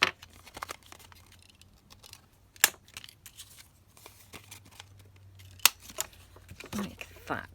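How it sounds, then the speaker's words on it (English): Scissors trimming a piece of paper ephemera for a junk journal, giving a few sharp, close snips among soft paper rustles and handling noise, with no talking. "I'm just going to trim this down"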